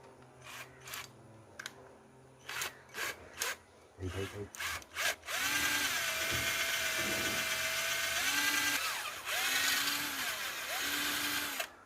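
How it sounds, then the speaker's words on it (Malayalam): A power drill bores into a part after a few sharp knocks, then runs in a loud, steady whirring whine for several seconds, with slight changes in pitch as it cuts. "അതുകൊണ്ടാണ് നമുക്ക് ഡ്രിൽ ചെയ്യാൻ വിചാരിച്ചത്"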